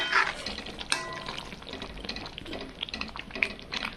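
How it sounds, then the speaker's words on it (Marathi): Masala gravy for chickpea-lentil aamti fries in a pan, giving a steady close sizzle with scattered crackles and a few stirring scrapes, no voices. "थोडासा वेळ लागतो याला फ्राय व्हायला"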